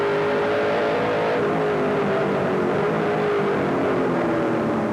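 A NASCAR stock car engine, running poorly and out of power, drones loudly and continuously up close, its pitch wavering unevenly rather than rising cleanly, with no one speaking.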